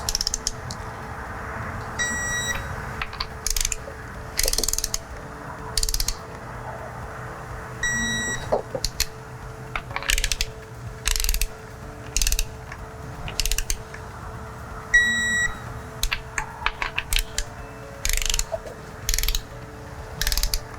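Ratcheting torque wrench clicking in repeated short bursts while tightening diesel engine head studs in a workshop, close and clear with brief pauses between pulls and no talking.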